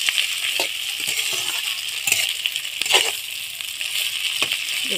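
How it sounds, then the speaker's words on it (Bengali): Onions fry in mustard oil until browned for an eggplant curry, giving a steady bright sizzle. Scattered metallic clinks and scrapes from stirring come through close up, and no one speaks. "এইভাবে পেঁয়াজটাকে আমি ভালোভাবে একটু বাদামি করে ভেজে নেব।"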